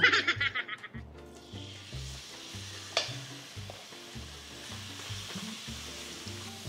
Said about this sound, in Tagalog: Uminit na tong non-stick pan.